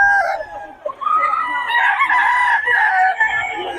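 Roosters crow loudly and continuously, with hens clucking among them, at a poultry seller's stall in Bocaue, Philippines; the close, dense calls overlap for the whole stretch with only a brief dip.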